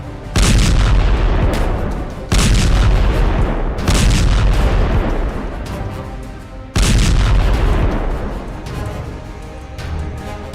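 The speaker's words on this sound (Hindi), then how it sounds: "पुतिन ने एक दिन में 367 ड्रोन धमाकों से जला डाला यूक्रेन।" Drone and missile explosions in Russia–Ukraine war footage: three heavy, close booms, each followed by a long rumbling roar that fades slowly, loud and without talk.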